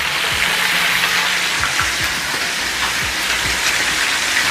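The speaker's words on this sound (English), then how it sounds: "when you're frying fish, you have to keep wiping" Fish fries outdoors over a wood fire, giving a close, dense, even sizzle with crackles and small pops throughout.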